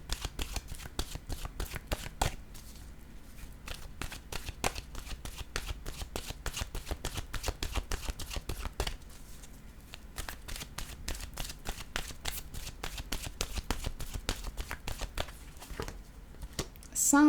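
Oracle cards being shuffled for a reading, a long run of quick crisp riffling slaps in rapid rhythm, close and steady with a couple of brief pauses.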